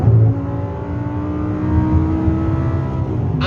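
An Audi R8 sports car engine roars loudly and steadily at full throttle on the road, a sustained deep growl with no break.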